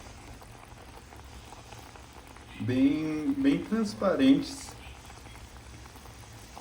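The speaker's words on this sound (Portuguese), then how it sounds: "E ficou aqui fervendo em fogo baixo a calda com açúcar" Sugar syrup simmers on low heat with a steady, soft bubbling and patter throughout, while a person speaks briefly over it midway.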